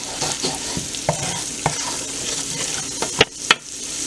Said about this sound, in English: so we would have fried up our shrimps for a little bit